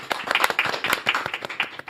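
An audience claps to welcome pharmacist Jeong Jae-hoon onto a studio stage, a brief burst of close, crisp overlapping handclaps with fairly even rhythm and no talk.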